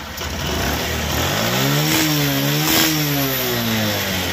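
A Bajaj Platina BS6 motorcycle engine revs up from a steady idle, its pitch rising and falling in a loud, close, continuous drone with no one speaking.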